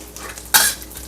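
Ingredients hit hot chicken-fat oil with fried shallots in a wok for Indonesian vegetable fritters, giving one sudden loud sizzling burst that fades over about half a second against quiet kitchen noise.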